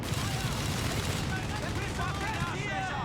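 A strafing run of rapid gunfire rattles through a Company of Heroes 3 battle, a dense continuous barrage of shots and blasts under a commentator's voice.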